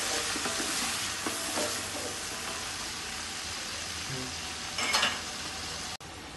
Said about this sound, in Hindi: ये देखिए हमारे लहसुन को पकते हुए हमारे 1 मिनट होगा